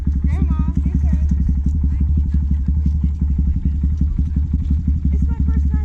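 A small 2018 Honda Grom motorcycle engine putters steadily up close, a rapid rhythmic chugging that continues throughout, with people talking over it.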